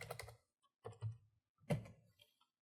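Quiet bursts of clicking keys on a computer keyboard come in three short clusters separated by silent gaps, soft and close.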